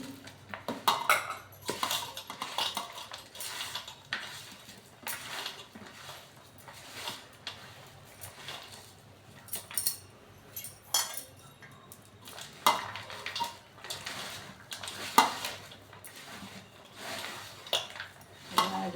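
A spoon scrapes and clinks around a bowl as groundnut unde mixture is stirred and pressed, with steady irregular metallic taps and scraping strokes close by, no talking.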